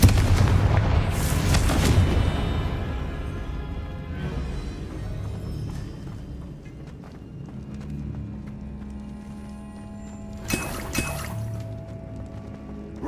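Confringo explosion spell blasts in the video game Hogwarts Legacy, a loud booming burst over a dense rumbling game soundscape, with a second sharp crack-like burst near the end.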